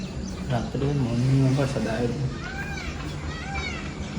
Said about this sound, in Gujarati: મોર બોલે છે મોર